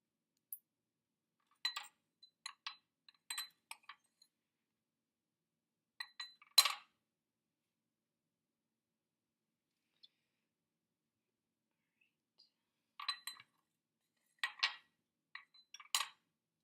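Small metal clinks and taps as pennies, paper squares and nickels are stacked into a homemade coin battery, sparse clusters of light close clicks separated by long silences.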